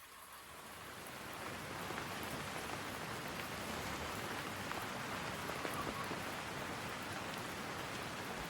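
Steady rain falls in Sydney, a dense, even hiss of drops pattering on surfaces that swells slightly in the first two seconds and then holds, with no voices.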